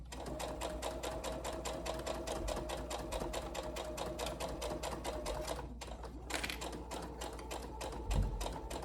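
A sewing machine stitches a bodice strap in a fast, even mechanical rattle of needle strokes, pausing briefly near the end before resuming, close and steady with no voices.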